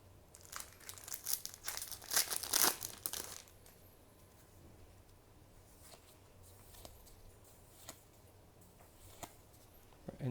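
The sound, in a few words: Cardfight Vanguard booster pack wrappers crinkling during opening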